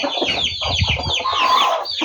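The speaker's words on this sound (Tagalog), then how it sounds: "Itong mga sisiw malalaki na ho." Large farmyard chicks peeping and chirping in a busy, overlapping chorus at close range, with a few lower clucking sounds mixed in and no talking.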